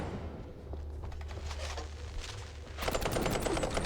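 Gunfire in the video game Mouse: P.I. For Hire, a dense rapid burst of shots that grows louder and sharper toward the end, with no talk.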